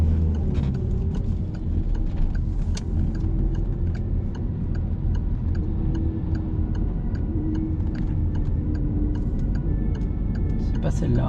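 A car turn signal ticks steadily in a regular rhythm during a driving lesson, heard faintly inside the cabin over a constant low engine and road hum.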